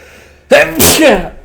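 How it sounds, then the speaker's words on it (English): A single loud, close sneeze bursts out with a sharp intake and explosive release. "I think I'm gonna sneeze."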